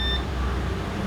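A multimeter's continuity beep sounds while a shorted 19-volt capacitor on a laptop motherboard is tested: one steady electronic tone, short and clear, with no talking.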